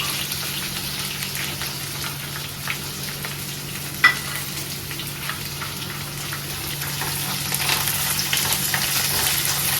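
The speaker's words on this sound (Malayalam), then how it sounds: "ഇതൊക്കെ വഴറ്റി ക്യാരറ്റ് ഇട്ട് ശകലം കഴിയുമ്പോൾ വെളുത്തുള്ളി ഇടാം" Carrots sautéing with garlic in a pan for a carrot pickle give a steady, close sizzle with a few soft scrapes and clicks of stirring, rising slightly louder toward the end.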